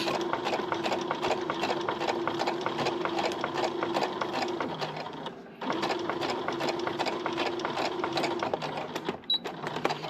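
A sewing machine stitches the sleeve of a hanbok dress, running in long, fast, steady bursts of rhythmic needle clatter with a brief pause in the middle, close and clear.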